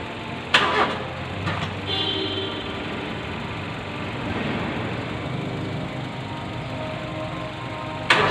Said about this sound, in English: Let me go and start the car.